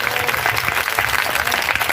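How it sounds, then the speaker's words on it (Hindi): A church congregation claps loudly during a Christian sermon, a dense, continuous burst of many hands with slightly uneven pulses over two seconds and no talk on top. "ताली मारो जोर से।"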